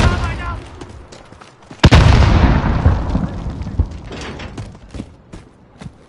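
A grenade blast in the Call of Duty: Modern Warfare beta multiplayer mode, a sharp loud boom followed by a long rumbling decay, with gunfire clicks and a voice briefly heard around it.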